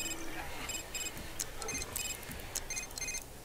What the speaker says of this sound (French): Ah, et puis mon portable sonne